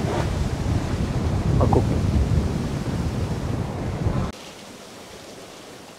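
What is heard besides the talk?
wind and waves while sailing a yacht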